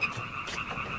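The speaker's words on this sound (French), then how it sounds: "Il pleut des grenouilles?" Frogs croaking in a steady, dense chorus, a continuous rhythmic chatter with no voices over it.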